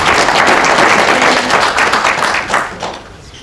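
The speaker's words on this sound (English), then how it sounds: "Round of applause." A round of applause from the audience at a specialty tea expo at a club hall, loud dense clapping that holds for a few seconds, then thins and fades out toward the end.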